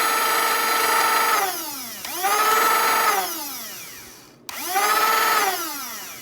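Flywheels of a Worker Hurricane dart blaster revving up in three whining bursts, each pitch sweeping up then steadily holding before winding down, with a short click between the second and third, loud and close.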